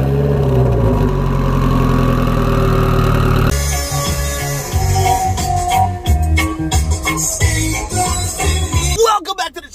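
An engine starts and runs at a steady idle, loud and close, in an abandoned Mitsubishi dealership, with a rough low rumble, a sharp change partway through and some irregular clatter before it cuts off.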